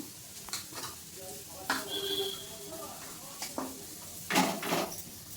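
Vegetables frying in a pan with egg, a steady soft sizzle under intermittent scrapes and clinks of a spatula stirring, close and moderately loud.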